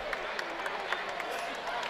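Crowd noise in a high school boys basketball gym after a behind-the-head pass, a dense wash of cheering and clapping with scattered sharper claps, heard under talk.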